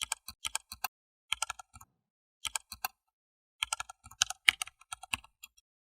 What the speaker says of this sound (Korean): 그분이 가르쳐주신 아이디 비밀번호를 입력해 보았는데요